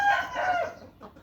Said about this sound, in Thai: ไก่เพิ่งเดินทางมาถึงนะครับ สามตัวนี้ไก่นมนม มาจากสุพรรณบุรีครับ